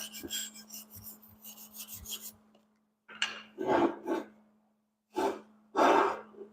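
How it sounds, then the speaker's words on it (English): A wire brush scrubs welding slag off the steel of drop pockets on a 1986 Chevy C10 square body: a quick run of rasping strokes, then a few heavier, separate scrubbing bursts with short pauses between them, close and clear with no talking. "take my wire brush, clean a little bit of that slag, that little bit of that stuff off of there."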